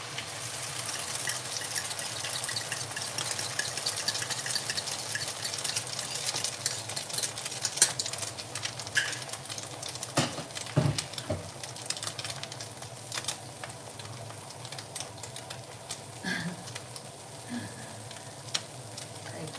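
A Thai omelette with naem, a fermented pork, fries in a pan with a steady close crackling sizzle and occasional scraping stirs, and no one talks.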